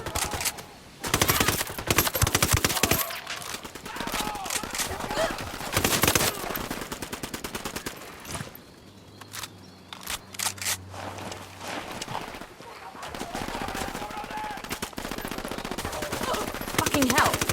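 Automatic rifle bursts and single shots ring out in a Ghost Recon Wildlands firefight, loud and dense for most of the stretch with a brief quieter lull in the middle before the shooting picks up again.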